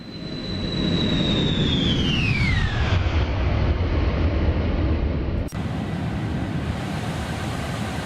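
Boeing 747-400 jet engines climbing out in the X-Plane 12 flight simulator on a New York JFK departure, a loud steady roar with a high whine that slides downward, then a short click.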